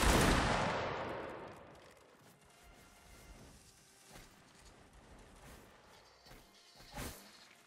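A musket volley fires in Mount & Blade Napoleonic Wars, a loud opening burst that decays into scattered distant shots and cracks over the next several seconds.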